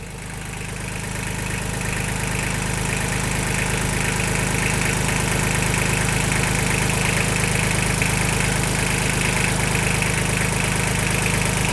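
Kubota L235 tractor engine idling steadily at its exhaust, a loud, constant low rumble with a slight knocking texture that holds unchanged throughout, with no talking.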